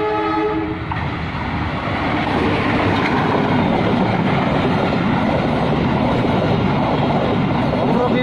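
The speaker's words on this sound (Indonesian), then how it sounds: "kirim rangkaian gerbong datar melintas langsung jalur 1 dengan nomor KAD110359 dengan lokomotif CC01 9213 Depo Induk Cipinang" A freight train of flat wagons hauled by a CC201 locomotive passes straight through a station on track 1, with a loud, steady roar and rattle of wheels close by and a horn at the start.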